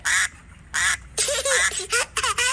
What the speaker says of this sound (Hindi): ये बतख तो सच में बहुत ही ज्यादा शरारती है, कैसे मुझे चिढ़ा रही है आवाज निकालकर